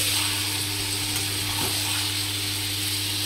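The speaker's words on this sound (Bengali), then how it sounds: "পেঁয়াজটা ভাজা হয়ে গেলে এবারে দিয়ে দিলাম মাংসগুলো। এবার ভালো করে একটু মাখা মাখা করে নিয়ে নাড়াচাড়া করে নিলাম।" Chicken pieces tossed into fried onions and stirred in a pan for a Bengali chicken curry, giving a dense, constant, loud sizzle with a faint scrape of stirring and a steady low hum underneath.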